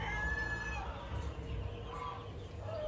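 Brood hens of the Hatch gamefowl line at a game farm give short clucks and calls over a constant low rumble of farm background.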